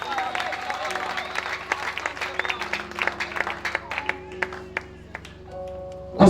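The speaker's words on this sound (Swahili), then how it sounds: "Shangilia Bwana kwa makofi." A church congregation claps and applauds with rhythmic, uneven hand claps at a sermon, moderately loud, with a voice and sustained tones underneath.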